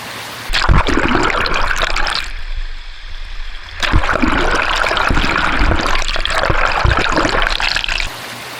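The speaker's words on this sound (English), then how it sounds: "And now let's put it into the white water." White water rapids rush and churn around a waterproof case holding a DJI Osmo Action 5 Pro camera, a loud broadband roar in two long surges with a brief muffled dip between them, no talk.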